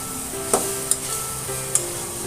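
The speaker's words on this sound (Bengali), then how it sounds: "কিছুক্ষণ ধরে নাড়াচাড়া করব।" Sliced pumpkin fries in a pan with a steady close sizzle, while a utensil stirs it and knocks against the pan a few times with sharp taps.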